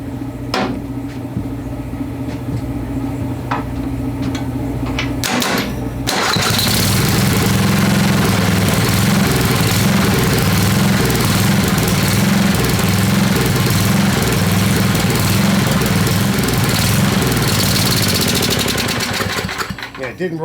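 An old Craftsman riding lawnmower's 10hp Tecumseh engine, water-damaged, is cranked and starts, then runs loud and steady close by. Lighter mechanical noise comes before it fires.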